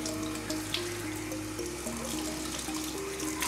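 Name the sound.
rinsing makeup brushes in water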